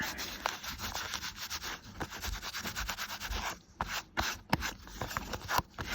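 White ink rubbed over sanded cardstock gives a steady close scratchy rubbing, with rapid repeated strokes throughout and a few brief pauses, and no talking.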